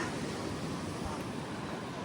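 Steady broadband rush of cold wind and surf on the English Channel coast, continuous and fairly loud, with gusty noise buffeting the microphone throughout.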